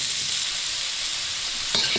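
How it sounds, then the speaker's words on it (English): Beef sizzles steadily as it sears in a hot wok, a continuous close frying hiss, with a brief stir or shift of the pieces near the end. "Let's add our beef. And we're going to just let it sit there for a moment so it gets a little bit of pan contact."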